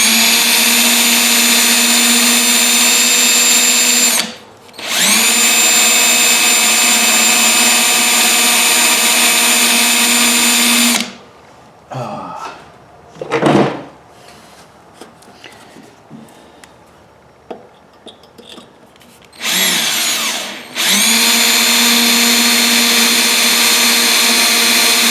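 A power drill whines steadily while backing out a broken stud from a Kohler XT675 engine on a Toro Recycler lawnmower, in long loud runs broken by a quieter stretch of clanks and handling noise.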